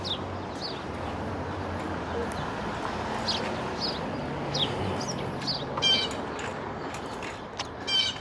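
Faint birds chirp intermittently outdoors in Brooklyn, New York, short high calls scattered over steady background noise.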